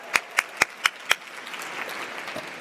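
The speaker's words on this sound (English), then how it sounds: "So let's give Patty another round of applause." Audience applause honoring a leader at Fortune's Most Powerful Women event: five sharp, evenly spaced claps ring out close by, then fade into a soft, diffuse wash of scattered clapping.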